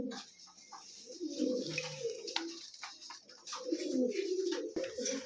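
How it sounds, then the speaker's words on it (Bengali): A pair of Silver Lahori pigeons coo close by in deep, rolling bursts that repeat at irregular intervals, with soft rustles and faint clicks between the calls. "চলে আসলো আরো এক জোড়া করকরা ফরফরা এক জোড়া সিলভার লাহোরি কবুতর"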